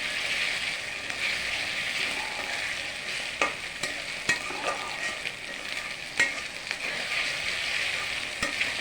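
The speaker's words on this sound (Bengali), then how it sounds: "আদাটাকে ভেজে নিব, ভালো করে ভেজে তারপরে সব মশলা দিব।" Ginger fries in a pan with a steady, close sizzling hiss, broken by a few brief scraping stirs. No voices are heard.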